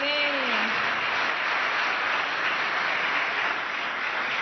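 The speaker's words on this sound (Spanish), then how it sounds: "Yo quiero darles un aplauso" A crowd at a youth forum held at Caracas's Cuartel de la Montaña, marking Hugo Chávez's 60th birthday, gives sustained, steady applause after a brief voice at the start.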